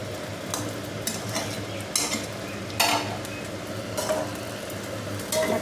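Meat and potatoes fried in a pan while a spoon stirs them, with a continuous sizzle and regular scraping strokes against the pan every second or so; no voices.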